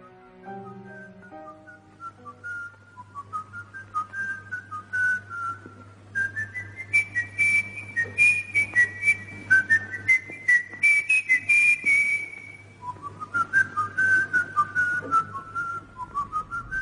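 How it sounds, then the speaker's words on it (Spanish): A person whistles a clear, wandering melody, phrase after phrase, over a low steady hum in a quiet setting. "todos los silbidos que se escuchan durante todo el metraje de la cinta"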